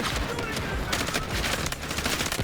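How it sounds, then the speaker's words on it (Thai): Gunfire in the video game Delta Force, including sniper shots, crackles in a dense, overlapping barrage. The shots stay loud and close for the whole stretch, with faint voices underneath. "สไนเปอร์ยิงมาอีก"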